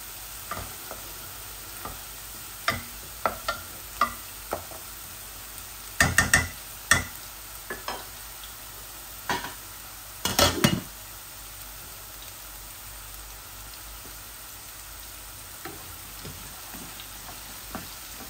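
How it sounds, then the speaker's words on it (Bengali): Onions frying in a pan with ginger garlic paste, a faint low sizzle with soft, intermittent scrapes of stirring heard close up. "এই যে আলুগুলো একটু ভাজতেছি, আলুগুলা ভেজে ডিমগুলাও ভেজে নিব।"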